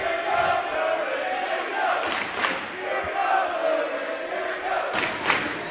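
A crowd fills packed stands at a high school basketball game between BRS and Bishop Sullivan, sustaining a loud murmur and shouting with sharp surges and squeaks throughout.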